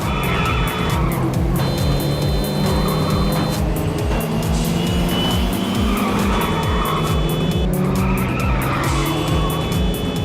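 Small cars race in Little Racers Street, an Xbox 360 racing game, with constant buzzing engines, repeated tire squeals and skids, and loud continuous action throughout.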